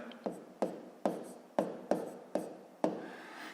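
A pen or pencil writes numbers by hand on paper during a fifth-grade decimal subtraction exercise, seven sharp close taps and short strokes spaced about half a second apart, with no talk.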